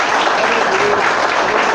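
A church congregation breaks into dense, steady applause, a close and even wash of many hands clapping together throughout with no pauses.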